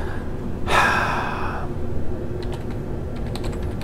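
Light keystrokes on a computer keyboard while entering a console command in Skyrim, a few scattered clicks following a loud gasp-like breath, close and fairly quiet.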